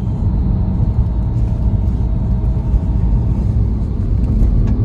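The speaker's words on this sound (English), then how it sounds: "Going for a final road test here before we deliver this car to the customer" Steady low rumble of a Porsche 997 Carrera base model fitted with active suspension, driving on a bumpy road during a road test, heard from inside with constant road and engine noise.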